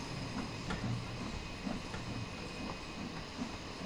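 A British steam locomotive train rolling along, a steady rumbling roar with faint rhythmic clicks of wheels over rail joints, heard up close and without voices.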